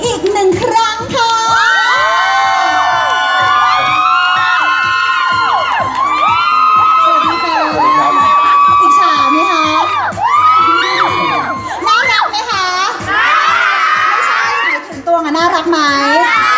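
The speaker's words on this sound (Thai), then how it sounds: "เอาขอเสียงปรบมืออีก1ครั้งค่ะ" Fans at a promotional event in a Tesco Lotus store cheer loudly, with excited high-pitched shouts and screams rising and falling over a busy crowd throughout.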